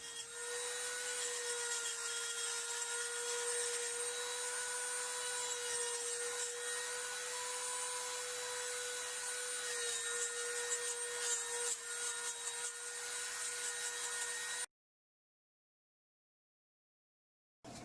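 A fine rotary burr carving a briar wood pipe bowl, giving a steady high-pitched whine with a continuous rasping grind, close and unbroken for most of the stretch before cutting off into silence.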